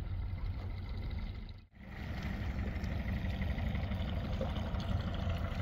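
Twin Yamaha outboard engines drone steadily on a sea-fishing boat, a dense low rumble that holds constant except for one brief dip partway through.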